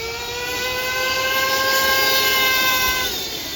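An RC monster truck tearing past at top speed, a loud, steady high-pitched motor whine with bright tonal harmonics, held for a few seconds before easing off; no distinct tire blowout stands out.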